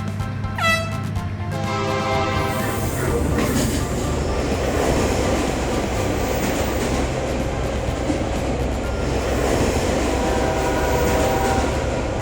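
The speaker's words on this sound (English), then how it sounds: "We have slow trains like Donald and fast trains like Benny. Okay, Donald, are you ready to race again?" Cartoon trains racing along rails: a loud, continuous rumble and clatter of wheels on track, with a sharp whistle-like tone near the start, and no talk.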